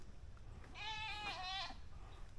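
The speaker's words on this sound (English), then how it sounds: "We get in some more goat." A goat gives one long, quavering bleat at moderate distance over low outdoor rumble, and no one talks.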